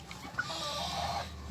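Soft clucking from a newly bought chicken kept in a small backyard coop, a few low, close calls over quiet surroundings.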